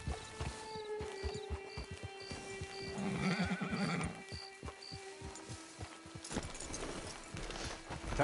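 Horse neighs and clip-clopping hooves in a video game at a camp, the whinny rising over steady hoofbeats with faint game sounds and some talk in the background.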